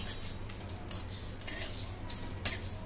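Whole spices such as cloves, cinnamon, star anise, mace and a bay leaf are dry roasted in a pan for Saoji chicken masala, with soft scrapes and light metallic clinks of a spatula and one sharper knock near the end, and no talking.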